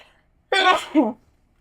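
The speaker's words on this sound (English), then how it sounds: "I have to sneeze." A single close sneeze, a sharp breathy burst followed by a short voiced tail, standing alone against quiet.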